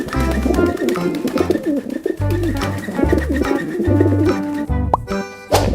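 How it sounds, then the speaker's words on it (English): Pigeons coo in a series of soft, repeated calls, mixed with plopping sounds and a bouncy backing track that runs throughout. "Pigeons."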